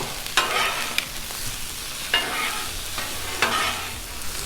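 Frozen peas and broccoli sizzling on a hot Blackstone flat-top griddle, a constant crackling hiss broken by several quick scraping stirs of a spatula, close and loud with no speech.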